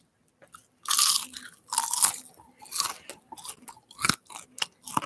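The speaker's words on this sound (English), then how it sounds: "Listen to this crunch." Sugar-coated popcorn is chewed up close in repeated loud, crisp crunches, with bursts of brittle crackling between short pauses.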